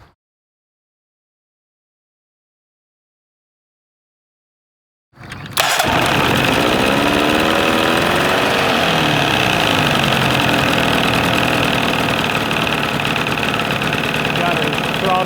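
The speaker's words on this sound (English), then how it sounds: "Got her throttled all the way down. Idling good now." After several seconds of silence, an outboard boat motor starts up and settles into a steady, loud idle, throttled all the way down, that runs unbroken to the end.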